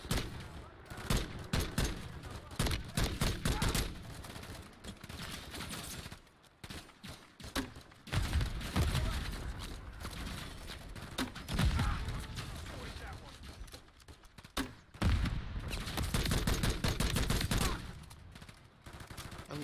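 Heavy gunfire rages through a video game battle in a frozen tundra, with dense bursts of machine-gun and rifle fire coming near and loud almost without pause, and voices shouting in between.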